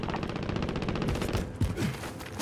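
Automatic gunfire in Call of Duty: Modern Warfare, a fast, evenly spaced rattle of shots close and loud, followed by a few heavier thuds near the end.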